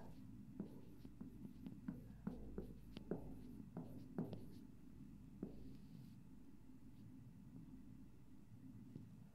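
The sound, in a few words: writing with a marker on a whiteboard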